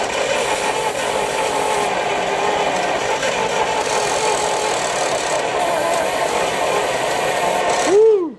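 A 1939 Buick engine, long unrun and low on compression, cranks steadily on ether with a loud, even mechanical churn, then briefly catches and revs with a rising whine before cutting off.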